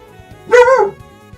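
A dog gives one loud, close bark-whine of rising and falling pitch, lasting under half a second, in an otherwise quiet indoor room.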